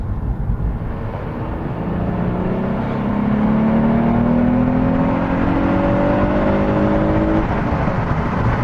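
A V6 petrol car accelerates hard, its engine note climbing steadily in pitch as it pulls, loud and close with a continuous road roar beneath and no talking.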